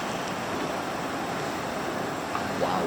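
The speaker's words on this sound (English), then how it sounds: "Oh, there's still so much more water coming." Flash flood water rushing outdoors in Arizona: a broad, continuous roar of turbulent water, steady and fairly distant, with some wind noise on the microphone and no voices.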